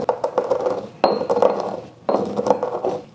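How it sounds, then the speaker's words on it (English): Whole black peppercorns crushed in a mortar and pestle for a barbecue rib rub, giving three bursts of gritty clinking and grinding strikes, close and fairly loud, with no talking. "it's easier for me to just get them ground up in my mortar and pestle instead of trying to grind it from my pepper mill"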